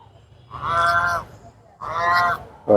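Two domestic ducks at the edge of a large pond give loud, nasal honking calls in two long bursts close by, with a third call starting at the end.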